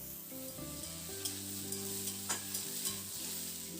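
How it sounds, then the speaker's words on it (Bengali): Potatoes and pointed gourd stir-fry in a pan with a steady sizzle and soft scraping stirs, a few sharper clinks of the spatula against the pan, and no voices. "এবার আলু পটল আরও কয়েক মিনিটের জন্য নাড়াচাড়া করে একটু ভেজে নিতে হবে।"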